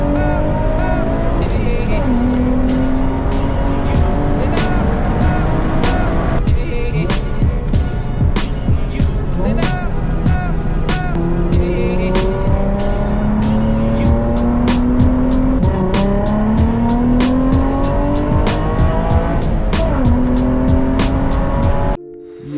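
An Infiniti G35 fitted with a Z1 cold air intake accelerates hard in second gear, its loud engine note rising repeatedly in long climbing sweeps, recorded close with no talking.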